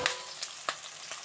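Eggplant pieces fry in hot oil with onions and curry leaves. A fairly quiet, close sizzle is broken by a few sharp crackles and spoon scrapes in quick succession, and no voices are heard.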